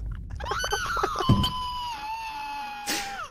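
A person screaming in the VR game Pavlov, one long sustained high-pitched wail that holds steady before trailing off, loud and close, cut by a brief thud midway.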